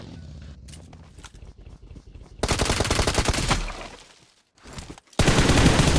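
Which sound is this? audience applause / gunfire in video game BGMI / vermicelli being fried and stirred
gunfire in video game BGMI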